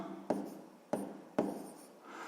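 Pen writing on paper during a sixth-grade math exercise on fractions, three short scratchy strokes close by, each fading out, then a soft rub at the end, with no talking.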